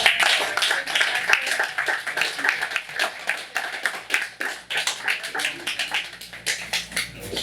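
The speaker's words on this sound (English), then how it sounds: "everyone give them a round of applause" Audience clapping after a film screening Q&A in New York City, a steady patter of many hands that rises and dips in waves for several seconds, with a few voices mixed in.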